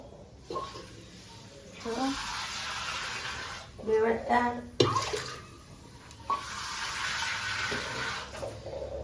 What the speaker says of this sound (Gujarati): આપણે થોડું પાણી નાખી દઈશું.